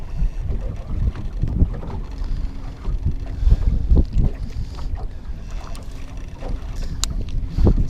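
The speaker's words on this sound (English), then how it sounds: "You see how windy it is out here?" Strong wind buffets across open water beside a small fishing boat, with continuous loud gusting rumble and microphone wind noise throughout, no speech.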